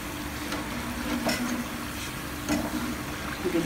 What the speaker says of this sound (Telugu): మీడియం ఫ్లేమ్లో పెట్టి మంచి కలర్ వచ్చేదాకా వేయించుకోవాలి